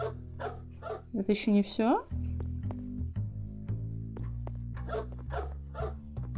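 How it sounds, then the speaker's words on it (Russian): Small dog in the BeTrapped video game barking in quick repeated yaps with a whiny yelp in the middle, set against a low game music drone while someone talks. "И гавкает, посмотрите на нее"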